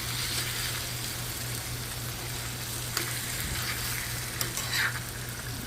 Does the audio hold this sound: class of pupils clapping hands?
no